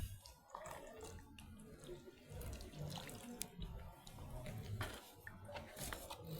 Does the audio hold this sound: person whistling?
no